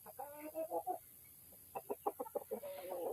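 Rhode Island White chickens cluck in a series of short rhythmic bursts, close and fairly loud over a steady high hiss, with quiet gaps between the calls.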